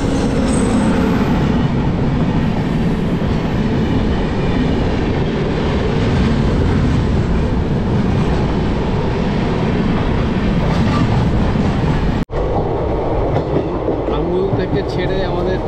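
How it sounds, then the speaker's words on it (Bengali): The Puri Intercity Express pulls out of Dhenkanal station, heard from inside with a loud, steady rumble of wheels and carriage rattle, a brief sharp clank partway through, and no talking. "ছেড়ে আমাদের ট্রেন কিন্তু বেরিয়ে যাচ্ছে"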